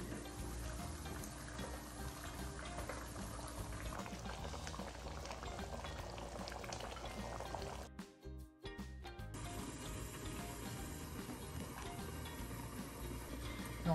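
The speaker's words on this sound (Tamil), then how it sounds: "ஆல்ரெடி உள்ள கொதிச்சுட்டு இருக்கு" A pot of tomato kurma simmering on a stove, with a steady, dense bubbling that runs close and continuous, broken briefly by a shuffle of handling before the bubbling resumes.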